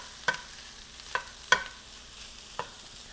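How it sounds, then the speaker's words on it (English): Plant-based meat grounds cooking over medium heat in a pan: four sharp scrapes or stirs of the utensil, spaced irregularly, rise above a faint, steady background with no voices. "I'm going to cook this around for about 6 to 7 minutes till it starts to brown a little bit"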